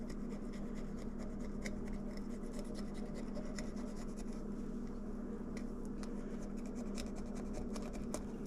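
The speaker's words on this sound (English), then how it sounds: "I'm going to stick the knife in there and just follow all the way down his stomach." A knife slicing along the belly of a stocked rainbow trout while cleaning it: a steady, faint rasping and scraping with scattered small clicks, continuous throughout, no voices.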